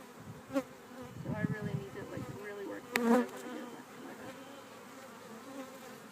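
Honeybees, including young nursery bees, buzz steadily around an opened hive, close to the microphone. The drone swells in a few louder bursts, with no talking.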